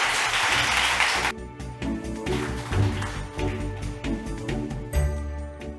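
A short burst of audience clapping at a concert-style science talk event cuts off abruptly after about a second, followed by quieter tapping and low background sounds.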